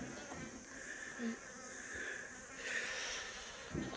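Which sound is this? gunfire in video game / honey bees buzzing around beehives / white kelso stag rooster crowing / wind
honey bees buzzing around beehives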